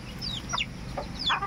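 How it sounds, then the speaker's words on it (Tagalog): Chickens clucking with short rising calls, several birds close by, mixed with ducks in a rural farmyard in Old Damulog, Bukidnon, over steady low background rumble. "Manok ug pato nagsagol."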